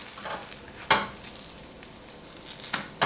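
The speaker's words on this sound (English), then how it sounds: "It's time to fry up our pancakes. In they go, very little oil, vegetable oil in here, nice and hot." Three-onion pancakes fry in a little hot vegetable oil, a soft steady sizzle punctuated by a few sharp scrapes and clinks of a utensil against the pan, close and fairly quiet.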